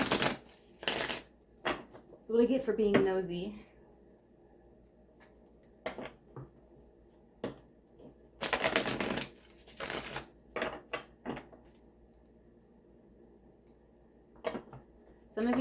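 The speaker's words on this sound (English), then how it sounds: "We're gonna shuffle this a couple of times." A deck of cards is shuffled with quick riffles and a bridging flutter early on, followed by scattered light taps and snaps of cards being handled, close and fairly quiet, while a person talks in between.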